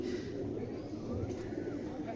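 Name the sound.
pigeons cooing in cage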